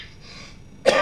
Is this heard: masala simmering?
no